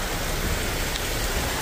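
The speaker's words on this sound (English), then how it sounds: "This is the rain coming down from the" Steady, loud rush of heavy mountain rain and runoff water running down a road in Jamaica, a continuous dense hiss with no voices.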